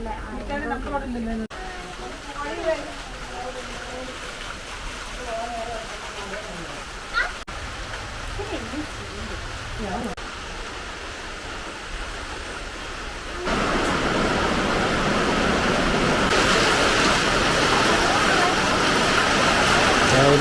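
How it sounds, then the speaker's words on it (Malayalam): Heavy rain pours down in a steady broadband hiss, growing louder and denser partway through, with a voice speaking over the first half. "നല്ല സൂപ്പർ മഴ"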